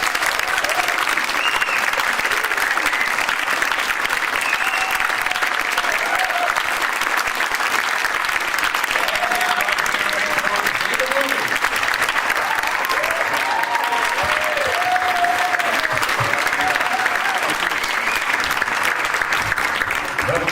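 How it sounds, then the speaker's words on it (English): Sustained audience applause fills a hall at the Mark Time Awards ceremony, a dense even wash of clapping with scattered cheers and voices woven through it, steady and loud throughout. "But players asked them to stand up here for another round of applause."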